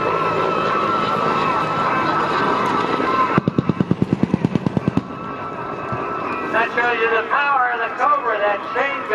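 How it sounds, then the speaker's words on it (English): A chain gun at a Vietnam-era airshow fires a rapid, evenly spaced burst of sharp pops during a strafing run, loud and a few seconds long, followed by a rumbling explosion, with an announcer talking over much of it. "that chain gun made a scraping run and blew something up"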